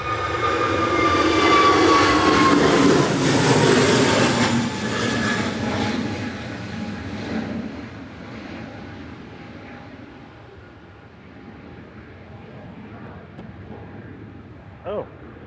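A plane taking off at Manchester Airport in the evening, its broad engine roar loud and close at first, then fading steadily into the distance, with a short faint click near the end.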